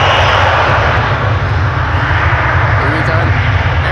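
Air France Embraer 170 jet climbing away on departure at Amsterdam Schiphol Airport, a loud, continuous engine roar held steady throughout, with a voice talking faintly underneath.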